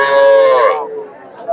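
A young bull calf at the Chandaikona cattle market gives a loud, close, drawn-out moo that fades after about a second, with market chatter in the background.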